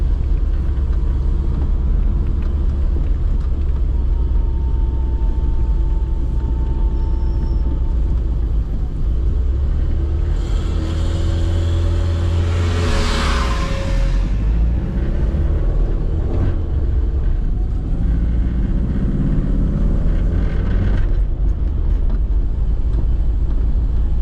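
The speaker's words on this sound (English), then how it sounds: "Spluttering again, come on. As soon as I put a bit of choke in, it struggles." A classic Mini Cooper under way on a road test, with a loud, steady low engine rumble and road drone that swells briefly midway and then settles, no talking.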